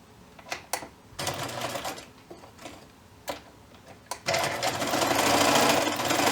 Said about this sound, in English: take these straps and put them right in the machine and stitch them all the way down